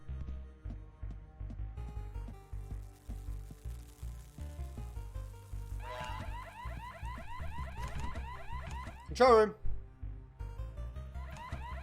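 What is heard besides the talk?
prison alarm ringing in video game Prison Break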